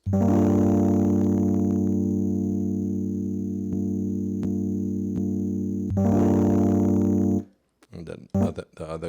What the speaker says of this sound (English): I got these chords that I chopped up, and they sound like this.